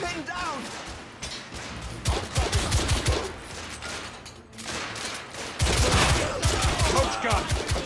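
Rapid gunfire bursts from The Order: 1886, repeated volleys and single shots echoing across a steampunk airship battle, loud and dense, with shouted voices and music mixed in.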